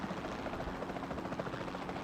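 Helicopter rotor and engine drone in the video game Jurassic World Evolution 2, a steady, fairly quiet continuous whir with faint rhythmic blade pulsing throughout.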